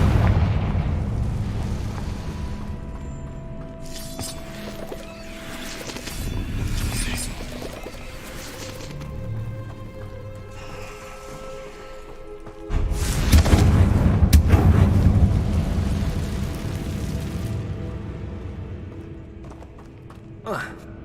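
A Confringo blasting spell explodes in Hogwarts Legacy on PS5: a loud, booming burst rises sharply partway through, over continuous rumbling game effects and clattering sounds.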